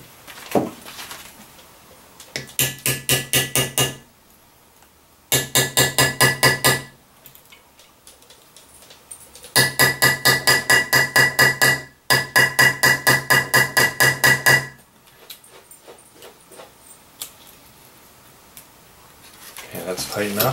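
Hammer striking a leather snap setter on a small anvil while fastening a snap on a leather scissors case: several bursts of rapid, sharp metallic taps, each a quick run of blows, separated by short pauses.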